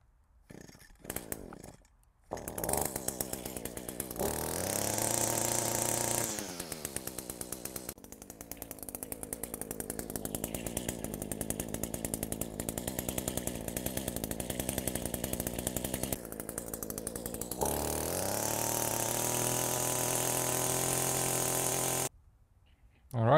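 Echo chainsaw after an idle-screw adjustment: pull-start clatter, then the small two-stroke engine catches and runs steadily for about twenty seconds with revving swells, loud and close, before cutting off.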